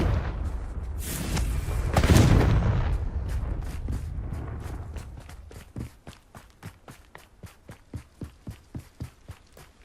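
A Confringo explosive spell in Hogwarts Legacy bursts loudly and close, with a rumbling blast that decays over a few seconds, followed by a run of rapid, evenly spaced footsteps.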